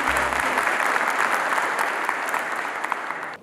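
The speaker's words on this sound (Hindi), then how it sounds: "जोरदार ताली हो जाए प्लीज।" Loud, sustained clapping from a large audience at a gathering with BSF soldiers in Koraput, a dense continuous roar of hands that holds steady before cutting off sharply at the end.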